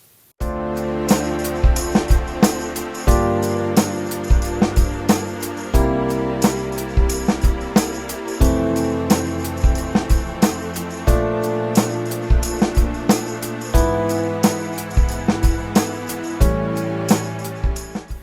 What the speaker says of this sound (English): These are mostly 4-note chords played in like a keyboard pad.